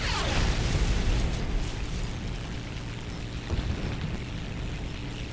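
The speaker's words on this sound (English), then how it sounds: "As you can see, both 2 rockets fire off on each press." Rockets from a Polikarpov I-153P 'Chaika' biplane fire and burst in a flight combat game, a loud dense roar with booming explosions over a steady engine drone.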